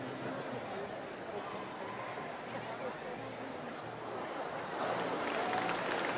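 A crowd murmurs and calls out in a large arena at a gymnastics World Cup in Paris, a distant steady babble with scattered shouts that swells near the end, with a commentator talking over it.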